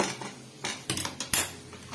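A spoon clinks and scrapes against a metal pot while sambar is mixed before boiling in a cooker, giving several sharp metallic taps and scrapes at close range with no voices.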